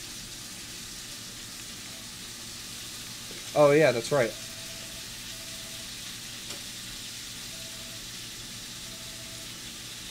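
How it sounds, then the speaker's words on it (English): Dinner frying in a pan gives off a steady, faint sizzling hiss that runs through the whole stretch, under quiet game music, with a short spoken remark partway through. "Wonder if y'all can hear that sizzle."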